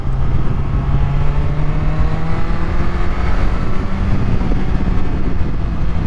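A Kawasaki Z1000 engine roars under hard throttle, a loud, sustained, close-up revving drone with no speech over it.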